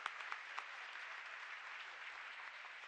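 Audience applause at a Jain religious gathering with Muni Shri Praman Sagar, steady dense clapping from a seated crowd throughout, fairly distant and moderate in level, with no voices over it.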